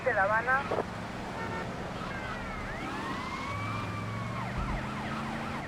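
A wailing police siren in the video game GTA Vice City sweeps up and down at mid-distance, starting from a loud burst of noise and continuing beneath steady traffic rumble.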